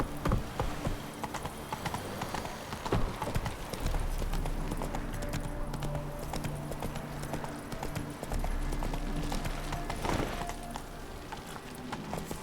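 Horse hooves clip-clop at a steady gallop in The Witcher 3, loud and rhythmic throughout, with occasional spoken lines from a rider.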